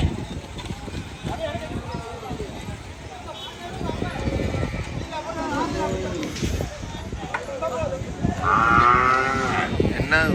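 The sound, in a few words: cattle mooing at Maattu Pongal festival in Jaffna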